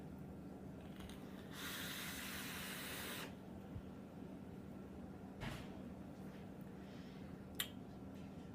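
Vapor is drawn through an RDA atomizer on an Eleaf iStick 50W, heard as a soft sustained hiss lasting under two seconds, followed by quieter brief hisses and small clicks nearby.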